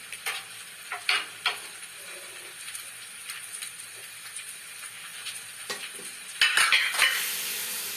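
Soaked bread frying in a pan of hot oil gives a steady close sizzle peppered with small crackles and pops, swelling into a louder, denser hiss near the end, with no voices.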